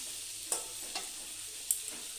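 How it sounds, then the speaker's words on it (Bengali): Potatoes fry quietly in hot oil with whole garam masala and bay leaf for a fish curry, a soft steady sizzle broken by three or four brief spoon scrapes against the pan. "আলুটা ভালো করে ভাজা হবে"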